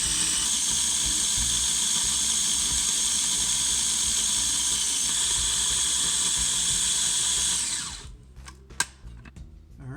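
A spice grinder whirs loudly and steadily while grinding chili spices into a fine powder, holding one high motor pitch. Near the end it winds down and stops, and a few small clicks and taps follow.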